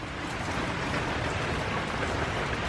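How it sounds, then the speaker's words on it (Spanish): Heavy rain pours outside during a storm, a steady dense hiss of drops on surfaces that is loud and unbroken, with no one talking. "pero miren cómo está la lluvia"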